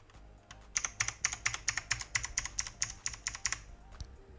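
An AULA Wings of Liberty mechanical keyboard is typed on up close in a quick, even run of crisp clacky keystrokes lasting about three seconds, with no voices.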